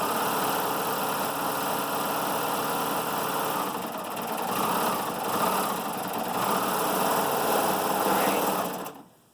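Sewing machine stitching ties together for an upcycled apron, a steady fast mechanical whir running continuously for several seconds before stopping abruptly.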